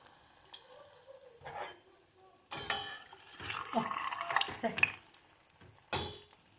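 Belyashi dough frying in hot oil, with sizzling and bubbling that swells after the dough drops in, mixed with clinks of utensils against the pan and brief stirring noises at close range.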